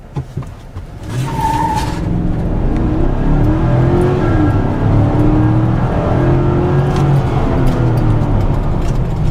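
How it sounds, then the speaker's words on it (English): A 2016 GMC Sierra 4x4 pickup's V8 engine roars up loudly under hard, full-throttle acceleration, its tone climbing through gear changes, with a brief squeal of tires at the start. "especially when you press the gas pedal to the floor"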